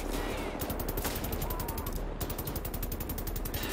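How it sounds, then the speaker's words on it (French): A machine gun in Wolfenstein: The New Order fires in long, rapid bursts, a dull, thudding stream of evenly spaced shots that runs nearly the whole time with one brief pause. "J'aime beaucoup le bruit que fait cette mitrailleuse, en fait."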